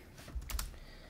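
Keys on a computer keyboard are tapped in a short, soft burst of a few clicks, close and quiet, with no voices over them.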